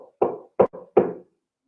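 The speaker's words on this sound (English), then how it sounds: "the soldier heard a knock on the door" Three heavy knocks on a door, evenly spaced and slightly reverberant, each ringing briefly before the next, standing alone with no voices over them.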